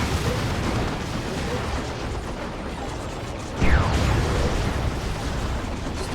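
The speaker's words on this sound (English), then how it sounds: "Massive plasma blast gun. Huge AoE damage to all targets." A massive plasma blast gun on a big, slow-turning tank in Warhammer 40,000: Dawn of War 2 fires one loud, sudden blast with a brief whooshing sweep, heard over continuous battle din of gunfire and rumble.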